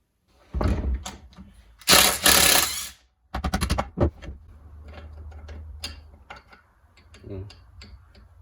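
Metal parts of a Triumph GT6 transmission clank, scrape and rattle as its reverse shaft is worked out during dismantling: loud bursts of knocking and grinding, then lighter intermittent clicks and taps close by.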